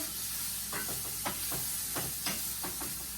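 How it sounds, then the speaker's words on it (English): Potato pieces stirred with a spatula in a hot pan, with scattered scraping taps against a steady background sizzle, close and fairly quiet. "Then I'm going to take a spatula and stir these around."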